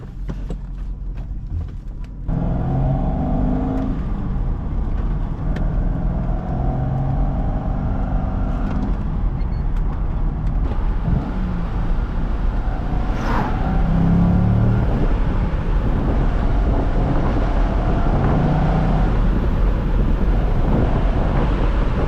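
A base model Chevrolet Corvette C6 with stock exhaust drives along, giving a quiet, steady engine drone inside the cabin with road and wind noise and little change in pitch.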